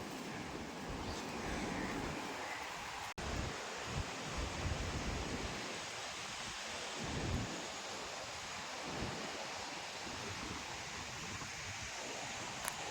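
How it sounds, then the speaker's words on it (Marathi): Strong wind sweeps across the sea at the Kunkeshwar coast in Devgad, Konkan. Surf and gusts blend into a constant, fairly faint roar, broken once by a brief knock. "हवा भारी सुटले इथे आणि अथांग सागर हा कुणकेश्वरचा"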